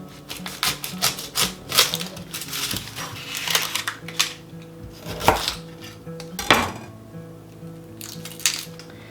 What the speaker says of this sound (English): So now I'm going to slice an onion